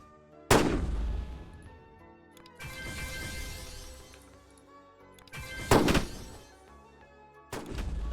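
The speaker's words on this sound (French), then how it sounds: "Je tire dessus." Sniper shots in a Roblox video game: three separate loud, sharp booms spaced a few seconds apart, each ringing out into a fading tail, with a quieter mechanical rattle between them.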